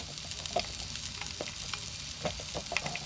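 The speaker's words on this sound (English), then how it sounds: "I'm going to cook this fish up real quick" Fish frying in a skillet, a continuous close sizzle and crackle of hot oil, broken by occasional clinks and stirring scrapes.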